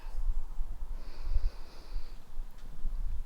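Slow, deep breaths are drawn in and let out softly through the nose during a beginner hatha yoga class, quiet and close with a gentle airy hiss and no talking.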